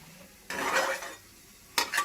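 Mango pickle is stirred in a pan, two short bursts of close scraping and sizzle separated by a quieter pause.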